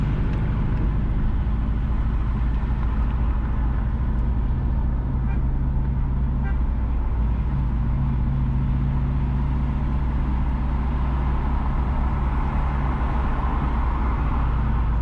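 A car drives through Kingston traffic along Eastwood Park Road in St Andrew, Jamaica, with a steady, loud engine and road rumble and passing vehicle noise continuing throughout.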